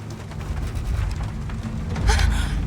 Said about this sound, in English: I don't like this storm.